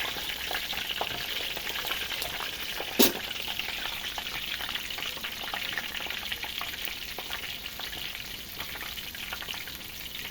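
Crispy pork frying a second time in deep oil, a steady dense crackling sizzle that stays even and close throughout, with one brief sharp clink partway through and no voices.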